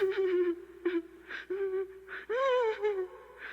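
A voice imitates a woman crying from far away: wavering, whimpering wails in short breathy bursts, then a longer drawn-out sob, heard alone.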